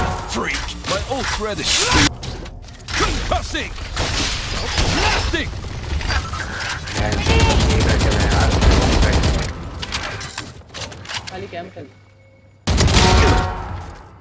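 Rapid bursts of gunfire from a shooter video game (Valorant) crackle through most of the stretch, loud and busy, with players talking over the shots throughout.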